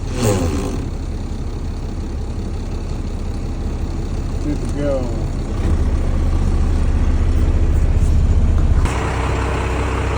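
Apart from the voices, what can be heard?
truck engine running with PTO engaged for hydraulics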